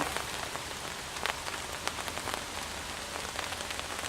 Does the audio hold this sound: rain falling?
yes